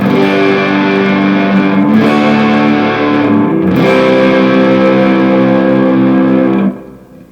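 Sustained chords on a G&L Fullerton Deluxe Legacy HB electric guitar ring out loudly with a gritty, moderately overdriven mid-gain tone and slight single-coil noise, changing twice before fading out.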